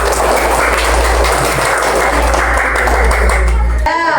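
Audience applause in an indoor gathering, a dense, loud wash of clapping that runs continuously and cuts off abruptly near the end.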